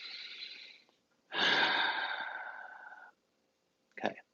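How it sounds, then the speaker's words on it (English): A slow, deep breath during a calm guided meditation: a soft inhale, a pause, then a longer, louder airy exhale, followed by a brief breathy sound, close and alone. "take a deep breath"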